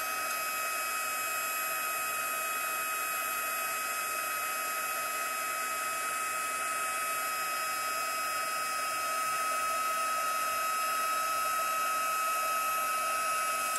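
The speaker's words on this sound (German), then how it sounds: "Dann werden wir es wieder mit dem Föhn bearbeiten." A hair dryer blows steadily and close by at a constant pitch while drying grout on a tiling job, a continuous airy roar with no talk over it.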